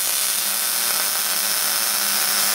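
A Hobart welder tack-welds steel light bar mounts on a RZR Turbo S, giving a steady, loud crackling hiss that runs without a break and with no talking.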